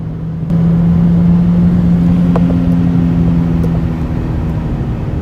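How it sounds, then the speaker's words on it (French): A turbocharged Citroën DS3 car accelerates, its exhaust rising into a loud, close, sustained engine drone with a steady tonal hum. "Le bruit d'échappement d'ailleurs est assez sympa."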